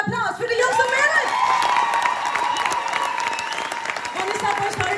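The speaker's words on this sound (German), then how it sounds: "Bitte gebt doch mal einen fetten Applaus für die Jungs und Mädels!" A concert crowd at an outdoor live show in a park applauds and cheers loudly for the band, with steady dense clapping, whoops and shouts over the whole stretch and voices rising above it.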